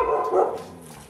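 A stray, homeless mixed-breed dog gives a single short bark, close and fairly loud, fading quickly afterward.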